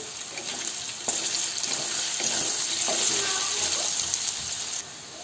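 Gram flour (besan) roasting in hot oil over medium-high heat gives a steady, bright sizzle with occasional stirring scrapes, holding for several seconds before ending abruptly.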